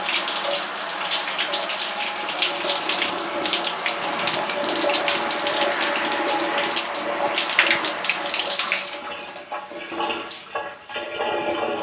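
Water from a shower runs in a steady, hissing spray for most of the stretch, close and fairly loud. It then breaks up into uneven splashing and dripping as the flow is interrupted. No one speaks.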